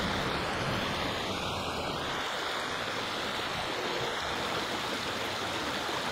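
Water swirls and sloshes continuously as it is stirred in a jar with Chlor-Floc purification powder, a steady dense wash of sound at close range.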